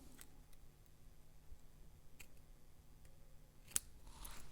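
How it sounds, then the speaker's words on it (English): Paper scissors snipping through designer series paper, a few sparse, quiet crisp snips spread across a near-silent room, with one sharper cut near the end. "That was my paper scissors."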